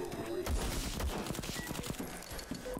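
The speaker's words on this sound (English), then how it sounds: "that gunshot" Gunfire in the brutal shooter video game VLADiK BRUTAL comes as a dense run of rapid, punchy shots over busy game sound, close and loud.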